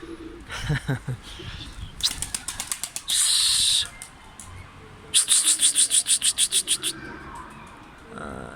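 Pigeon wings clap and flutter in quick bursts as it takes off, with a dense run of wingbeats near the end and some faint bird sounds.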